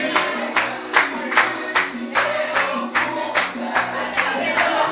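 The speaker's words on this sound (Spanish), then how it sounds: "aplauso" Guests at a 50th birthday party clapping together in a steady, brisk rhythm, each beat a bright burst of many hands over a low musical background, keeping time for several seconds.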